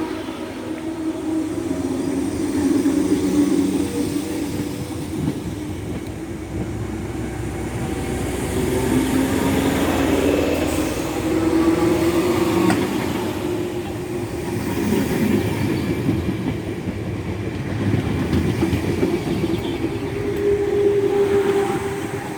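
A Class 313 electric train leaves Hertford North station and rolls into the sidings, rumbling steadily with clanks from its wheels and faint squeals. It is heard alone at moderate distance for over twenty seconds.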